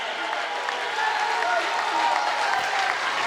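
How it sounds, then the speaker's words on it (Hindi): A crowd at a live Hindi poetry gathering in Kotadi Charbhuja applauds continuously, a steady dense clapping that swells slightly partway through. "बजाओ ताली, जरा जोरदार तालियों का घनत्व बढ़ा दीजिए।"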